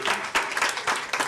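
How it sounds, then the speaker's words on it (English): A burst of applause from the audience at a Shreveport City Council meeting, brief and fairly loud, a dense patter of clapping that swells and dips over about a second. "Look, they clapping."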